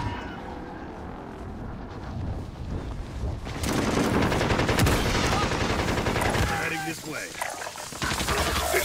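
Rapid bursts of gunfire crackle in Call of Duty: Warzone, growing louder and denser midway, with a dense mechanical roar beneath.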